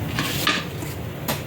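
A spoon stirs horse gram flour batter thinning in water in a pot, giving two soft scraping strokes against the pot with no talking.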